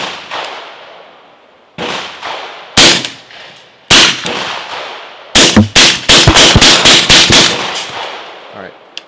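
A suppressed 300 Blackout rifle with a Griffin Optimus silencer and Strike Industries PDW stock fires subsonic rounds, first in widely spaced single shots, then a quick string of about eight close, sharp reports ending in metallic clatter.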